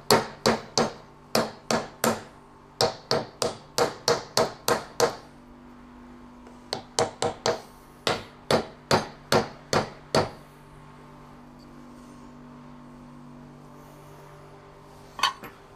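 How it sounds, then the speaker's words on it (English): A big hammer strikes a broken electric vehicle motor in rapid ringing bursts of several blows, pausing between groups, with one last faint hit after a quiet stretch. "I just hit it hard with a big hammer and it started to come off."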